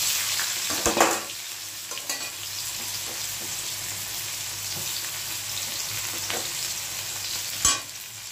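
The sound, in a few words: onion frying in a pan for chicken curry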